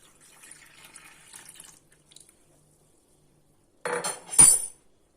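Water is poured into a well hollowed in flour while making Hatay-style bazlama flatbread: a faint trickle early on, then a short, louder splashing pour near the end, with no talk.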